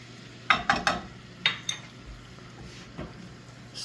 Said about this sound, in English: Stir that up, whisk that up, try not to get any clumps.